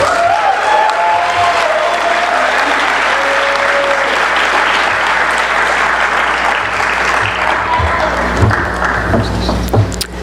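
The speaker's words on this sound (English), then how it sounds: "You can clap if you want." Sustained applause from a large crowd at a white coat ceremony fills the whole stretch, steady and full, with faint whistles or cheers rising above it early on.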